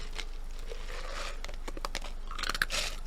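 Crunching and biting into a hard Tootsie Pop candy shell, a few close, sharp crackling bites with crinkly detail, heard alone without talk.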